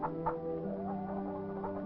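Chicken clucking softly at a distance, a few short irregular clucks over a low steady background hum.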